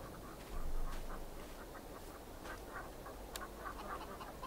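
Poultry clucking and squawking inside a coop in Farming Simulator 22, a few short calls scattered over a steady ambient background, moderately near.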